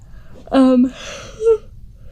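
A single tired person gives a drawn-out vocal yawn, opening with a loud, voiced stretch and then fading into a breathy exhale, followed by a softer short sigh, near and alone against a quiet room.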